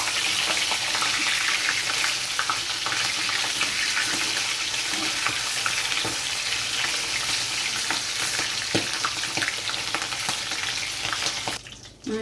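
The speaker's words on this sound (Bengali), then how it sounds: "মাছটা 1 পিঠ হয়ে গেছে, এবার আমি উল্টে দিচ্ছি" Fish frying in hot oil in a home kitchen after being flipped, a loud, dense, continuous sizzle and crackle that cuts off abruptly at the very end.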